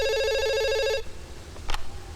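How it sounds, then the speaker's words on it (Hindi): A telephone rings with a steady electronic tone for about a second, loud and close, then stops; a short faint noise follows in the quiet room. "फोन बज रहा है"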